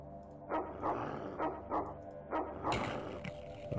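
Dog barking in the video game The X-COM Files, several loud bark bursts in an irregular rhythm over a steady background of game music or ambience.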